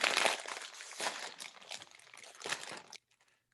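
A crinkly bag of folded-over chips is torn open, giving loud, continuous crinkling and crunching plastic rustles with several sharper bursts before falling silent.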